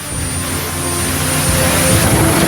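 An Indonesian Air Force helicopter delivers relief supplies to a disaster-hit area of Sibolga, North Sumatra, its engine droning loud and steady and growing slightly stronger, with no talk.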